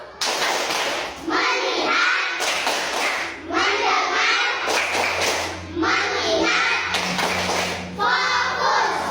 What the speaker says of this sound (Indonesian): Tiga, tepuk fokus